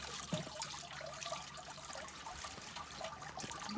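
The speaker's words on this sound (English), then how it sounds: "the water's pouring out the little holes on the side" Water drains from small holes in the side of a lifted minnow trap bucket at a creek, trickling and dribbling steadily in a soft, continuous splashing stream, fairly quiet, with no one speaking.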